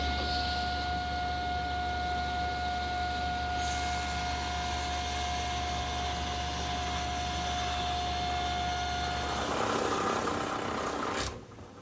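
A table saw runs steadily at close range, ripping a curved wood rail for a console table held tight to the saw surface and fence, its steady whine and hum ending with a brief surge of cut noise before shutting off.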